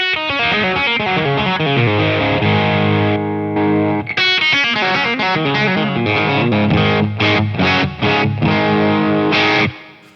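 Loud, gritty overdriven bass through a Boss BE-5B with scooped mids, playing a riff of sustained low notes and chords, ending in a few choppy stabs before cutting off.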